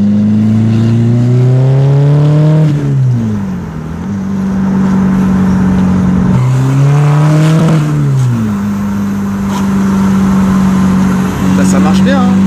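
A small 1.9-litre diesel car with a Stage 3 tune revs hard in repeated pulls, the engine note rising and dropping between throttle bursts, loud and close.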